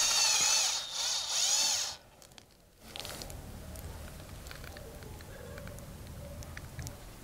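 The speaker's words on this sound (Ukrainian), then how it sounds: "Свердлимо отвір в нижній частині плавця." A power drill whines loudly for about two seconds, boring a hole through the lower metal fin of a fishing lure, then stops, leaving faint scraping and handling noises.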